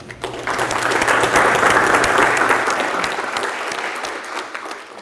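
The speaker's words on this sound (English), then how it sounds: "how about a round of applause for our dean?" A crowd applauds at a business school dean's lecture at Brockport, the dense clapping swelling quickly and holding steady and loud for several seconds before easing slightly.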